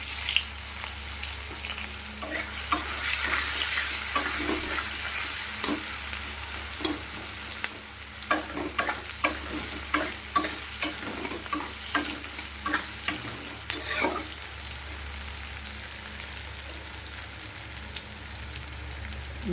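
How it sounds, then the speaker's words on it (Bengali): Sliced onions fry in hot oil in a wok after fish has been fried in it, a steady close sizzle broken by repeated scraping stirs of the spatula, with no talking. "কড়াই যে তেলটা ছিল"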